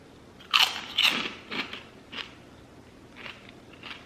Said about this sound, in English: I feel like I can hear the crunch echoing in my house.